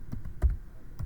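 Computer keyboard keys tapped while code is entered, a few soft, sparse clicks close by in a quiet room, with no voice.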